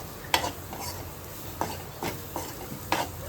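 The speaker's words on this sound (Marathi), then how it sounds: "परतून घ्या, परतून परतून परतून परतून घ्या." Spoon scraping and stirring spine gourd masala as it sautés in a pan, a few sharp clinks against the metal over a soft continuous sizzle, close and rhythmic.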